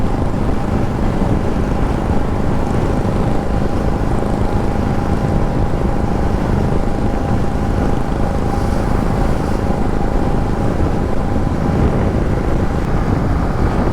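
Steady roaring wind rush while riding a Yamaha MT15 motorcycle on a highway, loud and continuous with the engine drone buried underneath, no talking.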